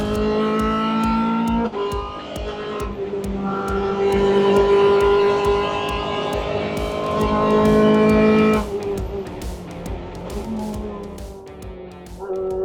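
A race car driving on a still partly damp track: a loud, high-revving engine wails continuously close by, with the pitch climbing through the gears, sharp drops at the shifts and a brief lull before it builds again.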